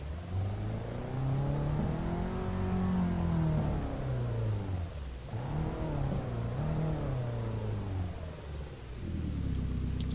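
A software-modelled car engine revs up and down in smooth sweeping waves, its rising RPM giving a buzzing growl that climbs, dips and climbs again, steady and close with no voices.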